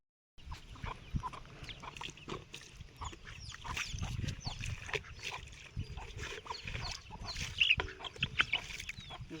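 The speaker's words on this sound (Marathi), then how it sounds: "101 कोंबड्या इथे आपली." Chickens on a village farm with about a hundred birds, clucking and rustling in a steady, busy mix that is fairly close, with a brief sharper call near the end and no talk.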